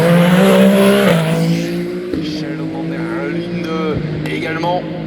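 A race car brakes hard into the Mulsanne corner at Le Mans, its loud engine note dropping in stepped downshifts, with a voice talking over it.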